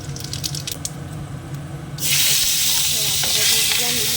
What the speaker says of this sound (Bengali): কচুটাতে এবার ফোড়ন দেবো দিয়ে দিচ্ছি একটা শুকনো লঙ্কা একটুখানি জিরে